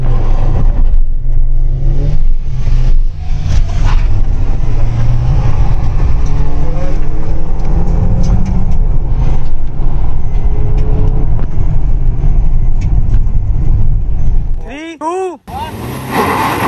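A Hyundai Creta SX(O) SUV and a Maruti Ertiga ZXi MPV, both 2024 models, accelerate hard side by side in a drag race, their engines roaring loudly and steadily throughout with heavy wind rush, ending in a brief sweeping tonal whine.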